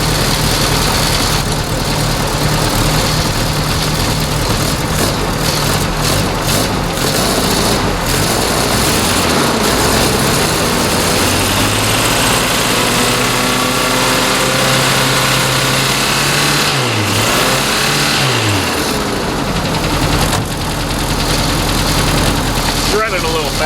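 Toyota Corona engine running steadily, idling with shifts in pitch as it revs up and settles, close and loud throughout; a rough, rich-running note.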